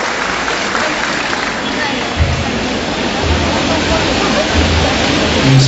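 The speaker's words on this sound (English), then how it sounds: "A round of applause, please." Applause fills a graduation ceremony hall, a steady broadband wash of many hands clapping at once that carries on without pause.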